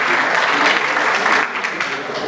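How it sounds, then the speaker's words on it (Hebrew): An audience applauds at the opening of a prize ceremony held in a lecture hall, with dense, sustained clapping that thins slightly toward the end. "מחיאות כפיים"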